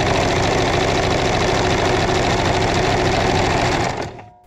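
A home sewing machine runs at steady speed, a loud continuous whirring, rapid stitching rattle that holds evenly for about four seconds before winding down and stopping.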